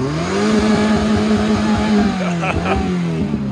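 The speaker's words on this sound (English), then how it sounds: "The all-wheel drive Subaru." An all-wheel drive Subaru engine revs close up with a steady, throaty drone that rises and dips slightly, with a brief sharper rattle near the end.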